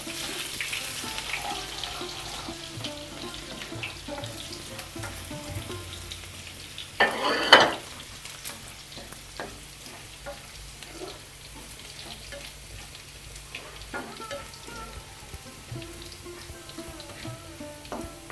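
Chopped shallots fry in a pan for a pumpkin and cowpea curry, a soft steady sizzle under occasional scrapes and clatters of stirring, with one louder burst of noise midway.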